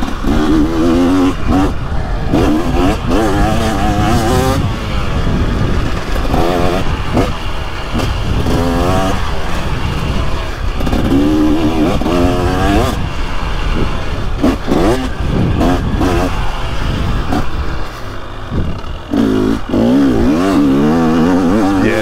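KTM 300SX two-stroke dirt bike fitted with an FMF Factory Fatty pipe and Powercore 2.1 Titan silencer, revving loudly and steadily close by, with repeated throttle blips rising and falling throughout.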